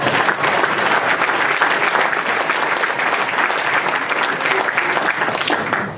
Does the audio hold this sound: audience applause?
yes